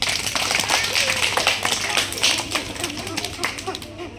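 A group of children clapping together in a room, a lively burst of rapid, uneven handclaps that fades slightly toward the end.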